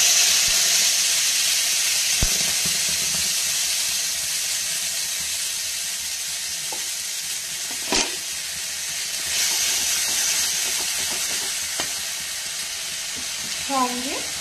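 Spice paste with a bay leaf frying in a pan for palak paneer gives a steady, close hiss and sizzle throughout, with a few brief clinks and stirring bursts.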